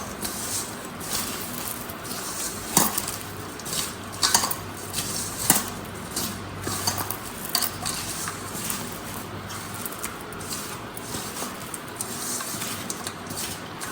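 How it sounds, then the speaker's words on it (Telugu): Fried bitter gourd is stirred into a pickle mixture, a spoon scraping and clinking against a metal bowl in repeated irregular strokes, close and fairly quiet. "దీంట్లో మనం ఫ్రై చేసుకున్న కాకరకాయని వేసుకోవాలి. మిశ్రమాన్ని బాగా కలుపుకోవాలి."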